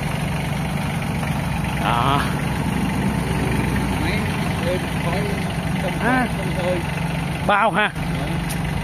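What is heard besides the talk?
Kubota tractor engine idling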